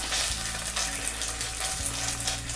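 Potato pancake batter with meat sizzles and fries in a little oil in a pan, a steady close crackle with faint scraping as it is spread out.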